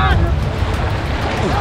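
Rough sea waves surging and washing loudly at close range around a floating pool set out in open ocean, with heavy wind buffeting the microphone and voices mixed in throughout.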